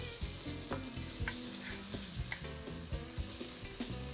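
Canned tomatoes are stirred into a sizzling tomato gravy in a pan, a steady close crackle of frying with soft scraping and clinks of a spoon recurring every second or so, and no talking.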